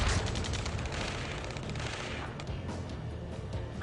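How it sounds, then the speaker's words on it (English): Gunfire in a firefight from the video game Ace Combat 7, a dense rattle of rapid shots and distant blasts under a steady roar, fairly faint and continuous with no talking. "Taking fire! We're pinned down! Shoot back!"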